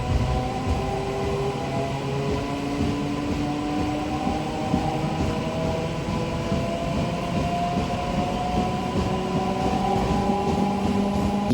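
The Kachiguda–Raichur MEMU train pulls out of Dabirpura station, its rolling rumble steady and fairly loud, with whining motor tones slowly rising in pitch as it gathers speed. No one speaks.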